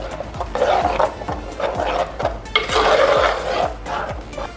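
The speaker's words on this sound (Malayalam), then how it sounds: "ഇതെല്ലാം കൂടെ ഒന്ന് മിക്സ് ചെയ്യും." A spoon scrapes and clinks steadily around a pan as ground coconut is stirred into fish curry, about two strokes a second, close and moderately loud with no talking.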